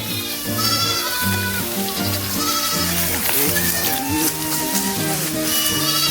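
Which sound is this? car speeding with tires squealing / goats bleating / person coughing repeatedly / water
goats bleating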